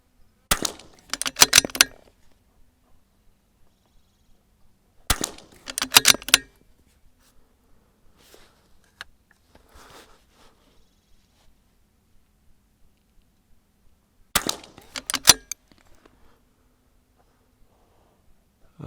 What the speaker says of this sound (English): I'm gonna go ahead and shoot on my 25-yard target to confirm the zero.